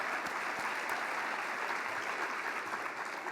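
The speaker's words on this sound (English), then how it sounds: "She deserves a round of applause." An audience at a community plenary session applauds an executive director, with steady, dense clapping from many hands that holds a constant level and has no talk over it.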